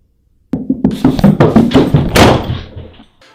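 A door bangs shut in a sound effect, a sharp knock followed by a run of thumps and rattles, then a heavy final thud before the noise cuts off into silence.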